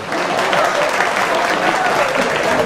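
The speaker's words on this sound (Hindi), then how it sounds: "एक बार जोरदार तालियां बजा दीजिए" An audience claps loudly and continuously, a thick, sustained burst of applause with crowd murmur mixed in that stays strong for the whole moment.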